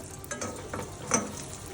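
Dried poha and ash gourd vadiyalu fry in hot oil, giving a soft steady sizzle with light stirring scrapes, close and even throughout.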